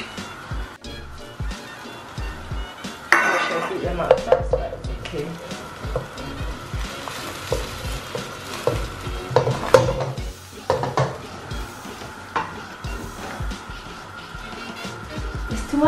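Eggs cook in a pan for pad thai with a steady sizzle and frying hiss under scraping and stirring clatter. Louder bursts of pan-and-utensil noise rise around the middle, and faint talk is mixed in.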